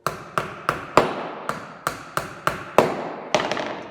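A hammer drives nails into a small wooden sliding-lid box, about ten sharp, evenly spaced strikes ringing close and loud, with no one speaking.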